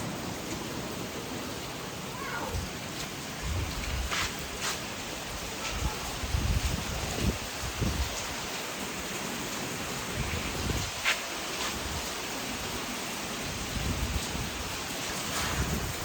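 Heavy monsoon-style rain pours steadily in Kerala, a dense, continuous hiss close to the microphone with occasional louder drops and gusts, and no voices.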